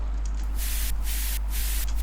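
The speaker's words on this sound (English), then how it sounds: "white noise to give it that energy in the drop" A white noise riser for the drop of a melodic electronic track, a loud sustained hiss that pulses and briefly cuts out in rhythm over a deep steady bass tone.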